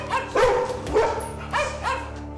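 Dogs whimper and bark nearby in a house, giving a few short, whiny yelps and barks in quick uneven bursts that rise and fall.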